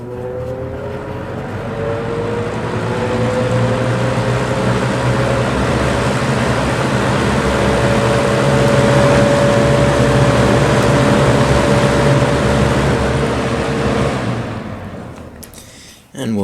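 A vintage Lasko box fan on medium speed gives a steady, close whooshing drone of moving air with a faint low motor hum, holding level before cutting off near the end.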